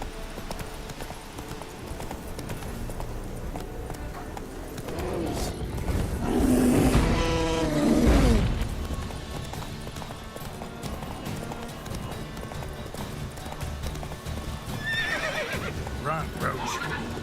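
Roach the horse in The Witcher 3 video game, hooves clip-clopping at a gallop with a loud neigh in the middle and another whinny near the end, under game sounds and some talk.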